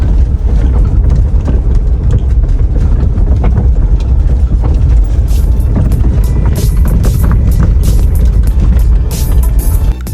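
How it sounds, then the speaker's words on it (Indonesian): Left-side front suspension of a Daihatsu Terios knocking and clunking repeatedly as the car is driven over a rough, bumpy road, the irregular thuds close and loud over steady road and engine rumble. "bunyi mobil gue tuh udah kayak gerobak, rame banget John"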